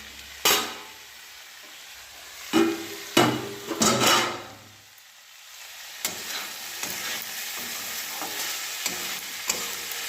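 Vegetables for a vegetarian suji upma being stirred in a frying pan, with a few sharp scraping knocks of the spatula early on and a steady soft sizzle throughout.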